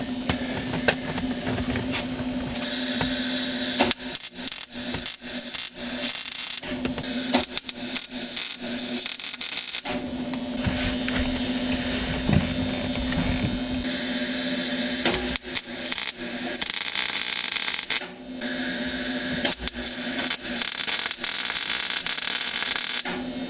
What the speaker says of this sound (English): Could just finish welding it in here and be done.